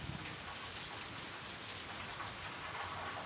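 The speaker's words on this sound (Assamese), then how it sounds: "বেংগলৰ বৰষুণ কি ক'ব, হঠাতে আহে আৰু এতিয়া যাব নোৱাৰিম" Steady rain falls during a sudden downpour in Bengaluru, a dense, even hiss of drops on surfaces that continues without a break and stays moderately loud throughout.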